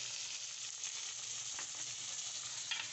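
Chopped tomatoes sizzle and fry over browned onions in a pan for an arbi masala curry, a steady close hiss with faint crackles and no talking.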